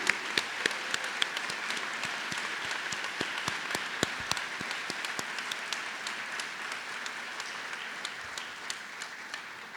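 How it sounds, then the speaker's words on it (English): Dense, sustained applause fills a hall at a medical school white coat ceremony, many hands clapping steadily for ten seconds and slowly tapering off at the end. "another round of applause for our newest Rowan SOM medical students"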